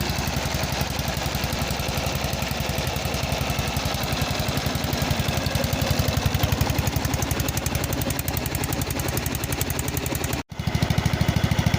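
A 1988 Simplicity 7116H garden tractor engine, still running on thick old oil, warms up at a steady, loud, rapid chugging idle with a brief dropout near the end.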